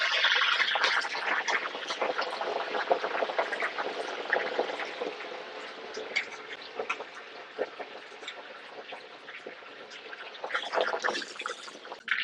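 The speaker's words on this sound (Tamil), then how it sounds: "இப்போ எண்ணெய் காஞ்சிருச்சு நம்ம கழுவி ரெண்டாக வெட்டி ரெண்டு மூணு துண்டாக வெட்டி வச்சுருக்கிற வெண்டைக்காயை பொறிக்கிறோம்" Cut okra pieces fry in hot oil for a South Indian tamarind curry, giving a continuous dense sizzle and crackle with bursts of popping, moderately loud and close, with no talk.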